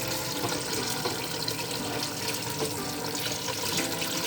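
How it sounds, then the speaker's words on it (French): Water is poured over veal in a Moroccan tajine stew with white beans and turnips, producing a steady, close gushing and splashing pour that stays continuous and fairly loud throughout. "je vais rajouter de l'eau à hauteur de la viande."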